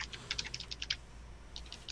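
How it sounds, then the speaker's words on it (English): Keys clatter on a computer keyboard in quick bursts of crisp, close taps, a busy flurry followed by a short pause and another brief run, with no voices. "Are you typing something?"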